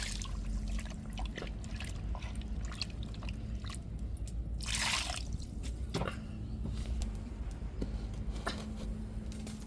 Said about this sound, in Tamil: கறி அவியறதுக்கு நம்மளுக்கு தேவையான தண்ணி சேர்த்துக்கிடுவோம்.